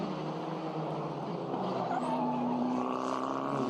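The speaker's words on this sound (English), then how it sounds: "Locked wheels there from Barter" A race car locks its wheels under braking during a circuit race at Jerez, the tire skid rising over steady engine roar as the car is heard from a distance.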